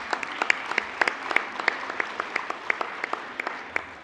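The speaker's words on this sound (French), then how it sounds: "Je crois qu'on peut l'applaudir." Assembly members at a council session applaud, scattered distinct hand claps in a loose, moderate rhythm rising above a soft background murmur.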